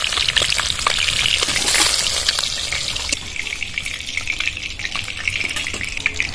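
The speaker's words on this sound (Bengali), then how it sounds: "বাকি মাছগুলো এইভাবে ভেজে নেব।" Small fish such as tilapia and other tiny river fish frying in hot oil in a home kitchen, a continuous bright sizzle and crackle with a spitting burst early on, then steadier hissing.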